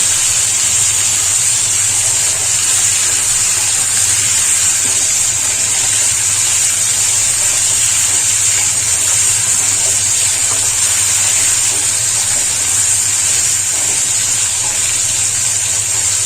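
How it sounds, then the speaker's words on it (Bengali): Chicken pieces fry in a pan, giving a steady, loud, broadband sizzle and hiss that holds without a break for the whole stretch, with no one talking. "চিকেন একবারে দিয়ে দিলাম, ভেজে নেব।"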